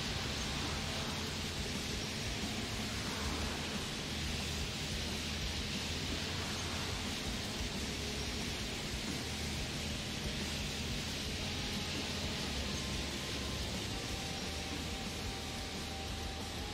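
Steady broadband hiss of rain in the OMSI bus simulator, a Berlin-Spandau route, runs evenly and fairly faint throughout with a low rumble beneath and no distinct drops.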